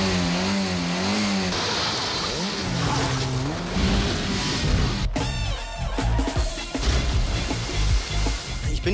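A car accelerates hard and jumps across a gap, its engine roaring and revving with rising pitch, then a sharp impact is followed by rattling and continued engine noise and a brief voice.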